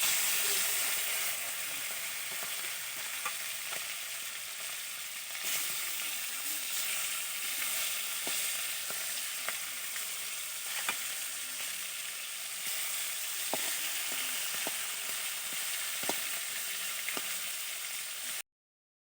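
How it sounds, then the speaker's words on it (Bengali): Fish frying in a small amount of oil in a home kitchen, a continuous bright sizzle with occasional soft pops and crackles, steady and close throughout. "এই যে অল্প তেলেই কিন্তু মাছ ভাজি"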